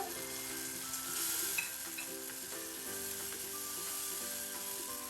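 Desi duck curry masala with whole garlic, stirred and fried in oil over medium heat, giving a continuous close sizzle with soft scraping of the stirring spoon throughout.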